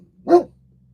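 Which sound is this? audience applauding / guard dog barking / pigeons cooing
guard dog barking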